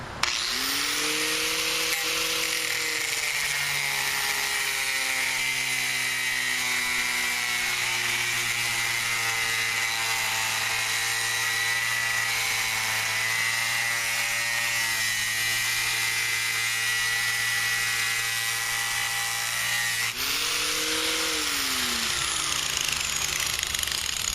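Loud, steady whine of a power tool cutting out a metal throwing knife blank, running continuously for about twenty seconds with a brief dip near the end before resuming.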